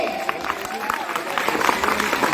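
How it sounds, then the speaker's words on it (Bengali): Loud applause at a school's 61st annual foundation day prize ceremony, dense sustained clapping from a crowd that continues throughout. "হাততালি জোরে"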